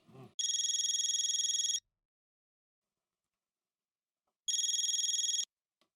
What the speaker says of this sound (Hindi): जीतू भाई को फोन लगाओ